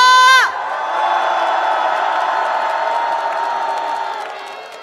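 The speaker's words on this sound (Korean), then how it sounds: "다시 한번 커다란 함성 부탁드립니다." Large crowd at a political impeachment rally roars with sustained cheering, whoops and shouts, loud and steady for several seconds after a brief tonal sound at the start, tapering slightly at the end.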